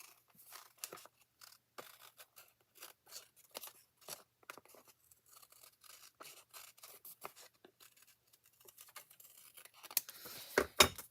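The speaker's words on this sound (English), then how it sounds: "I keep a pair of scissors, a cheap old pair of scissors for cutting" A cheap old pair of scissors snips through paper while a card is made, giving quick crisp cuts in irregular bursts, close and fairly quiet, ending with a louder rustle of paper.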